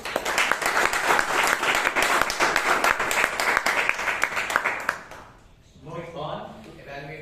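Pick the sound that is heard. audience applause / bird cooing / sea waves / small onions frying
audience applause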